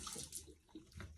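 Water splashes and trickles at close range as a natural homemade face mask is rinsed off the face, with irregular bursts of running water and dripping over a soft, continuous wet background.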